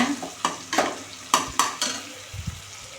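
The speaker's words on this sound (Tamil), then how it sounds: "வெங்காயம் தக்காளி நல்லா வதங்கிடுச்சிங்க" Onions and tomatoes sautéing in a home-kitchen pan, giving a soft sizzle broken by several sharp scraping stirs of the spoon against the pan, close and fairly loud, with no talking.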